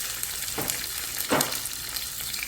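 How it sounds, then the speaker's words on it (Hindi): Green chillies fry in oil in a pan with a steady soft sizzle, broken by two brief louder bursts of stirring and spitting, heard alone at moderate volume with no talk. "तो मैं हल्का सा फ्राई करूँगी।"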